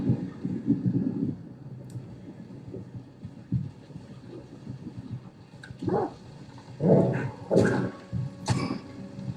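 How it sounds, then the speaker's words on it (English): Dogs barking in Stalker 2, a cluster of sharp yelps and barks building in the second half, loud and close against a low rumbling game backdrop. "Too many dogs."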